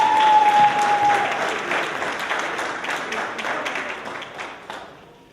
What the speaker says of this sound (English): If everybody could please give a round of applause for Ms. Natalie, please.